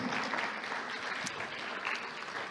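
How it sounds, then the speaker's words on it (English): An audience at an engineering innovation prize presentation claps in sustained, fairly soft applause that continues evenly throughout, with no talking. "Let's give them all a big round of applause."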